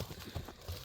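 A black horse shown for sale walks on hard ground, giving several distinct clip-clop hoofbeats in an uneven rhythm, close and fairly quiet, with no talk.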